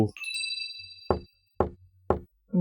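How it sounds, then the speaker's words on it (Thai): Three loud, evenly spaced knocks on a door in a snowy-night horror video game, each a sharp single thud separated by silence, following a brief chime tone. "มีคนเคาะประตูเหรอ"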